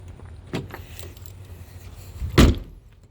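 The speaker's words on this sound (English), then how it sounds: "At least the door locks." A car door thumps shut, followed by a brief mechanical rattle from the locks, close and fairly loud against a quiet background, on a car with a starting problem.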